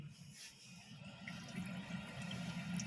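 Water rushes through the fill valve into a concealed toilet cistern, a steady low hissing flow that builds slightly louder over a few seconds, heard close up with no talk.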